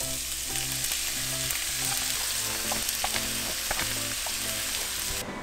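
Two yellow onions sautéing in canola oil in a saute pan, a dense continuous sizzle with crackling pops and stirring, close and steady throughout.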